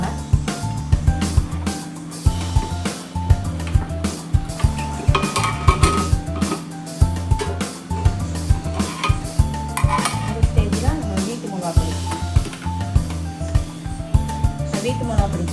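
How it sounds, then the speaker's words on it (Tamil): Chicken being stirred in a pan, repeated clinks and scrapes of a spoon against the metal in a quick irregular rhythm over low cooking noise, with a voice talking faintly in places. "சிக்கனை கிண்டி விட்டுக்கோங்க"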